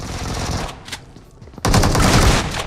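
Automatic gunfire in an online battle royale semifinal match, a loud sustained burst of rapid shots after a quieter lull, dense and continuous, with no talk over it.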